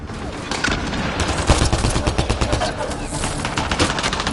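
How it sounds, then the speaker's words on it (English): Rapid automatic gunfire in the Mass Effect Andromeda video game, a dense continuous rattle of shots at close range, loud and steady throughout with some voice mixed in. "Just keep firing, we can do this!"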